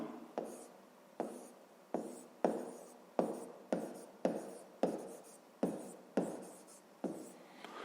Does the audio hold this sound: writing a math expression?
yes